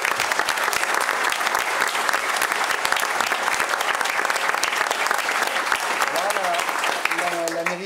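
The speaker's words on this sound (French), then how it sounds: "Un applaudissement pour eux." An audience at a local amateur theatre production gives sustained, dense applause for volunteers, loud and even throughout, with a voice briefly speaking over the clapping near the end.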